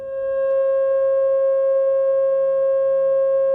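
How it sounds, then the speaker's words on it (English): A steady pure sine tone holds loud and constant from start to finish, with faint harmonics above it and nothing else. The tone is meant as F sharp paired with its perfect fifth, C sharp. "They are F sharp and its perfect harmonic fifth of C sharp."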